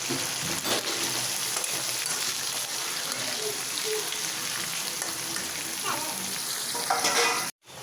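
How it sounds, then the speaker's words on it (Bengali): Dried fish and onion fry in hot oil, a steady close sizzle that crackles on for several seconds before a brief cutoff near the end. "তেলটা গরম হয়ে গেছে তো এখানে আমি শুটকি আর পেঁয়াজটা দিয়ে দিব"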